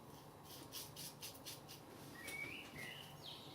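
A bird calls outdoors, faint and distant, giving a few short chirps and squawks over quiet background ambience.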